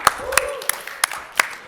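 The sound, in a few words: audience applause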